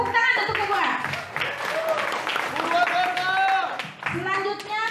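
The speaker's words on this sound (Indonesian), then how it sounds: "Tepuk tangan untuk Regu A." Clapping for a team at a provincial primary school quiz competition in West Java, brief bursts of applause mixed with children's voices and an adult speaking through much of it.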